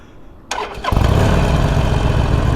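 A Harley-Davidson Sportster Forty-Eight engine cranks briefly, then catches and settles into a loud, steady idle, very close.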